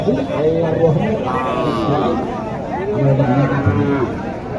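Cattle moo at a busy rural cattle market in Naogaon, drawn-out lowing calls rising twice through steady crowd chatter and nearby bargaining voices.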